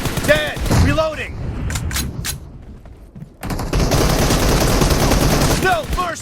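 Gunfire in the PUBG battle royale video game: quick bursts of automatic fire and single shots, loud and close, with in-game voice lines and players talking between and over the shooting.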